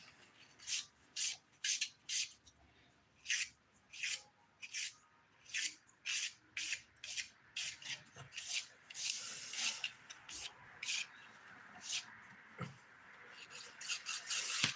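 A nail file rasps over fingernail edges in quick, regular strokes, a dry scratchy rhythm of short bursts heard close and fairly quiet, repeating for about fifteen seconds with faint background noise.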